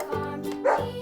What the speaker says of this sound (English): Dog. Number 8.